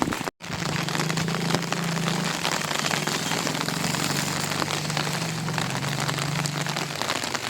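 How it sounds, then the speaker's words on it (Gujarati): Heavy rain pours down in Bhavnagar with strong wind, a loud, dense, unbroken hiss of drops striking surfaces close by, with a steady low hum beneath and no voices. "જો જો વરસাદ આવી રહ્યો છે, પવન પણ બહુ છે"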